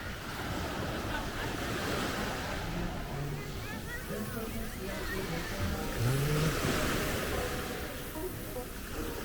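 Surf washes steadily onto the southwestern end of Mismaloya Beach in Puerto Vallarta, a continuous broadband roar with wind buffeting the microphone and faint voices in the background.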